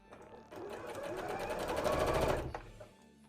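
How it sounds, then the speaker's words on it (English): A sewing machine stitches a seam on a petticoat, its rapid needle chatter building from quiet to a steady close run for about two seconds before stopping, with no talking. "Just gonna sew down this bit, and then we're gonna do a zigzag."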